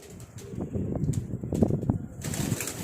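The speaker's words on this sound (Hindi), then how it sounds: "ये उम्रदराज कबूतर है, काफ़ी अच्छा है, और लाहौरी कसूरी कबूतर है।" An aged Lahori Kasuri pigeon coos in a few low, soft burbling calls close by, with brief rustling and wing movement, and no speech.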